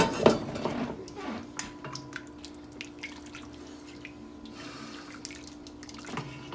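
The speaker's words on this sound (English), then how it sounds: "we're going to slowly add our hot chicken stock. Okay. Give it a good stir." Hot chicken stock is poured into a pot on a home kitchen stove and stirred, giving a close liquid splash and pour at the start, then soft spoon-and-pot clinks and drips against low background hum.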